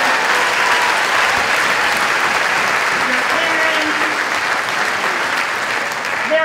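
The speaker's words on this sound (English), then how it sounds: "So give everyone around you a round of applause, whether it's the staff or the great principal." Sustained applause from a large audience at a high school commencement ceremony, a dense, steady clapping wash that stays loud and even throughout, with faint voices mixed into the crowd.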